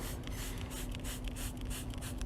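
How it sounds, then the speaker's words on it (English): Lightning Fast car cleaner sprayed onto a soiled section of a car interior, a run of quick, soft hissing bursts repeating steadily and close by, with no talking. "So what I'm gonna do is spray some more Lightning Fast on this affected area."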